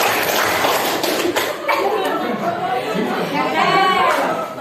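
A class of children clapping along in a rhythmic clap game, quick group claps mixed with lively chatter and voices close by.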